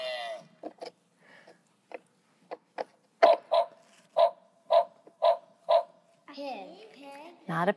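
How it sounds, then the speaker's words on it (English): A dog gives a run of sharp, evenly spaced barks, starting with a few quieter yips and building to louder barks, and ends in a higher whining call. "A dog."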